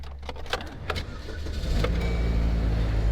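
A used car on a salvage auction lot, about 184,000 miles on it, cranks over after the key turns in the ignition and settles into a steady, loud idle rumble that continues to the end.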